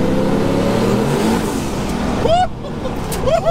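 A 1300 BHP LS-swapped turbo Nissan 280Z pulls hard in third gear, with a loud, steady engine roar from inside the car and two quick rising gear-change sweeps near the end.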